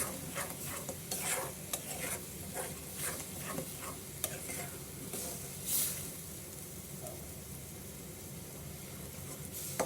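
Ginger is stirred with sugarcane jaggery in a pan, giving a steady close scraping and stirring over a soft continuous sizzle, with occasional clinks of the spoon.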